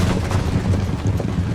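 Musket volleys fired at cavalry during an assault on a British fort in Empire: Total War, a dense crackling of overlapping shots with low booming rumble, loud and continuous throughout.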